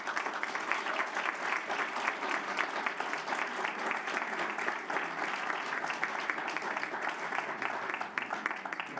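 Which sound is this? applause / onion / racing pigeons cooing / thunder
applause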